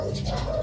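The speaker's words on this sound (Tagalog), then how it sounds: "Ayan po, ang dami pong ibon." Soft, low cooing of several pigeons or doves close by, with faint chirps over a steady outdoor background.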